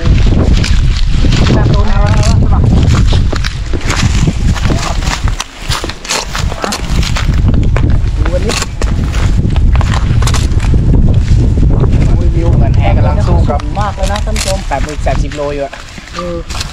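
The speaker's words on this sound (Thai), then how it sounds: "มาฟังเสียงลมใกล้ๆครับความแรงอ่ะดูดิโคตรแรงแบบนี" Strong wind gusts roar around the microphone outdoors at a kite-flying site with a drone, loud buffeting noise that swells and dips throughout, while people talk over it.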